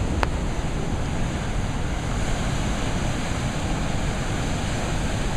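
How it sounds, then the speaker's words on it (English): Ocean surf breaking on the shore along San Francisco's Crissy Field waterfront, a steady, broad wash of waves mixed with heavy wind noise on the microphone, with no voices heard. "there's some pretty good waves here."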